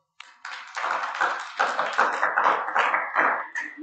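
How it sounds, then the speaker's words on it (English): A short burst of hand clapping from a small group, uneven and fairly close, lasting a few seconds. "Clapping for her."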